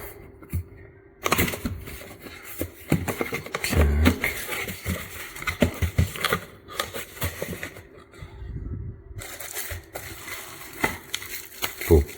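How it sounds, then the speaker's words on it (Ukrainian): Plastic and paper crinkle and rustle in bursts as a parcel holding a replacement DualShock 4 controller shell is handled and opened, with occasional clunks and a brief voice in the background. "Так що прийшла посилочка, зараз розпакуємо швиденько однією рукою."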